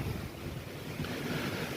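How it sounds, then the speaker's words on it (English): Ocean surf and strong wind during Hurricane Helene on Florida's Gulf Coast, a continuous loud roar of waves and gusts buffeting the microphone, with no voices. "to your right is the ocean"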